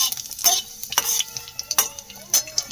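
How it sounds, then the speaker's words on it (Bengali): Five-spice and dried red chilies dropped into hot oil for tempering, a close crackling sizzle with sharp pops and scraping stirs breaking through at irregular moments. "তেলটা হয়ে গেছে গরম, দিয়ে দিচ্ছে হচ্ছে 5 ফোড়ন আর শুকনো লঙ্কা একটা ফোড়নে।"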